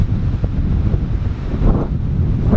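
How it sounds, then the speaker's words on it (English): Strong wind on a near-vertical New Hampshire mountain buffets the microphone in a loud, continuous low rumble with gusty surges and no other sounds. "The weatherman says it's supposed to get to an 8-mile-an-hour wind today. Hope you guys can hear this because it's a lot more than 8 miles."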